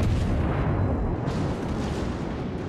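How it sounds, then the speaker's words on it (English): Warship guns fire in World of Warships, a dense, continuous barrage of deep booming blasts and rumbling reports, loud and close, with faint crackling bursts layered on top. "And my secondary guns are also firing, so he's close enough for that"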